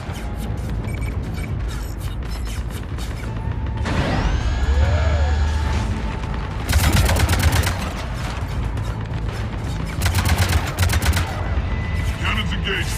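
Heavy cannon fire in the Mass Effect 3 Omega DLC, with loud booming bursts in repeated volleys amid mechanical clanks and game noise, some rapid and rattling, with lower voices in between.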